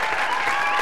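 A studio audience applauds in a brief, continuous wash of clapping at steady loudness.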